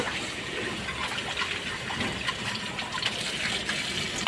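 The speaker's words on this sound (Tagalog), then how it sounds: "lagyan ng panibagong tubig." Tap water runs steadily into a basin used for washing cat food plates, a continuous close splashing gush with no talk.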